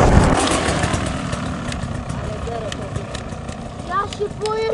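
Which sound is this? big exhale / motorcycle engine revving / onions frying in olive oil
motorcycle engine revving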